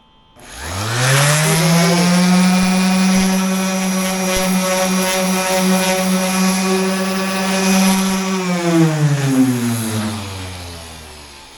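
A power sander with 120-grit paper works on the edges of a 1979 Porsche 924 front fender, whining up quickly, holding a steady loud buzzing drone, then spinning down at the end.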